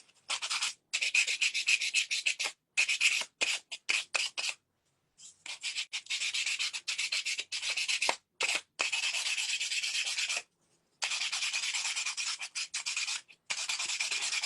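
Hand sanding with 320-grit sandpaper scrapes paint off the edges of a wooden bee and honeycomb plaque in quick, close rasping strokes, broken by short pauses, with no voices.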